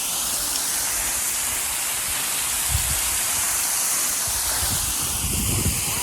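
Steady, dense roar of a waterfall in the Ozarks in snowy winter, heard close from the base as a continuous broadband rush with no breaks and no voices.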